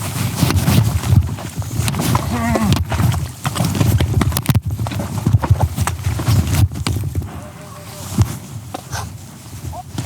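Horse struggling through a muddy swamp in Mongolia, belly-deep in mud, with irregular splashing, sucking thuds and sloshing, mixed with breathing and occasional voices.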